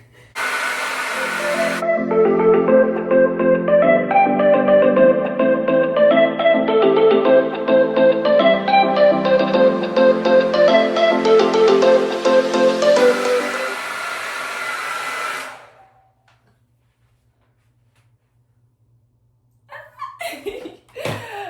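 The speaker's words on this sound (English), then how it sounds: "you're gonna dry it this way so the roots can get voluminous" A hair dryer blows loud and steady on curly hair for about fifteen seconds, its whine shifting slightly as it moves, then cuts off into near silence before faint handling noises at the end.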